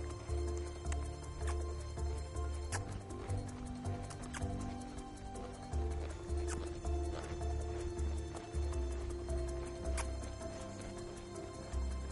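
A horse cantering in a training session, heavy rhythmic hoofbeats repeating steadily in a rolling three-beat pattern, fairly close, with faint voices in the background.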